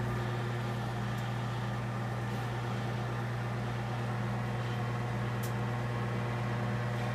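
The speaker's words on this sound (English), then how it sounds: "So I'll throw it in my microwave there." A microwave oven runs with a steady low electrical hum droning on without change, with a couple of faint clicks.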